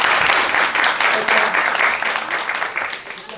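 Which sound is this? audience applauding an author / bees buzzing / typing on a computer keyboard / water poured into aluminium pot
audience applauding an author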